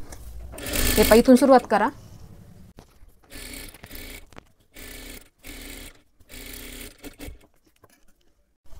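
A sewing machine stitches right along the edge of a blouse lining, starting with a loud close burst and then several shorter, evenly spaced runs with pauses; someone speaks briefly.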